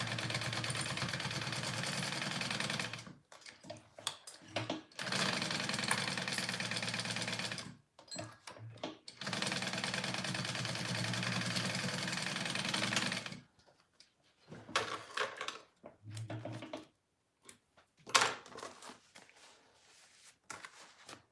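A sewing machine bastes fabric for an H2O 2GO sling, running in several steady mechanical bursts a few seconds long, separated by quiet pauses and a few short stitching spurts near the end.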